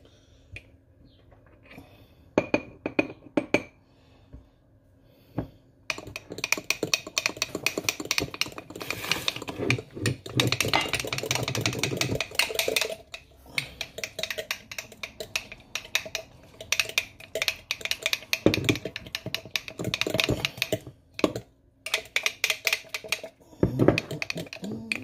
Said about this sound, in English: And just start stirring it.